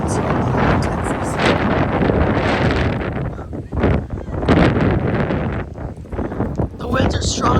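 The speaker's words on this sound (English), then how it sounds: "today we're getting some pretty strong wind gusts" Strong wind gusts of about 40 mph in Plano, Texas, roar and buffet the microphone in a loud, continuous rush that surges and dips over several seconds.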